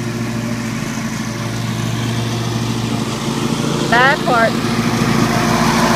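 A lawn mower drones steadily while passing back over a cut, clover-filled lawn, heard fairly close and continuous, with a brief chirp and someone speaking over it.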